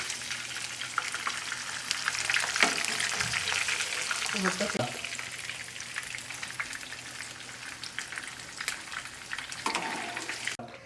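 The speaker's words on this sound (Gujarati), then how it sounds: "હવે આપણું પનીર ફ્રાય થઈ ગયું છે" Steady oil sizzle fills the background while paneer fries, with a few scraping clinks of a utensil and brief low sounds over the constant crackle.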